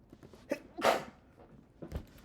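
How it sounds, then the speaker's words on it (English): A single person's sneeze, short and sharp with a breathy burst, set among quieter breaths and small noises in a quiet room. "I gotta sneeze."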